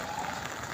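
Heavy rain pours down on a flooded street, making a dense, constant hiss of drops close by over a brief stretch.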